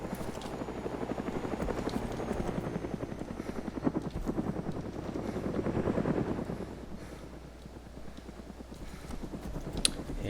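Helicopter in Arma 2 DayZ: a fast, steady rotor chop throughout, loud and close, with the throbbing rising and easing slightly, and no talk over it.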